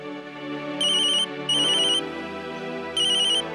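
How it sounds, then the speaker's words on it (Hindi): A phone ringtone plays in three short, bright electronic bursts over a steady background tone. "ओह नो, मीता का फोन है"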